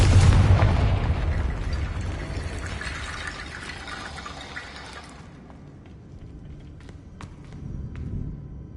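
A Confringo fire spell explodes in Hogwarts Legacy, a loud booming blast at the start that rumbles and decays over several seconds, followed by quieter crackling debris and scattered small impacts.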